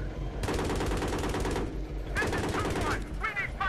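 Rapid helicopter machine-gun fire in Battlefield 3 rattles loud and close in two long sustained bursts with a brief gap between them, layered over a steady engine drone.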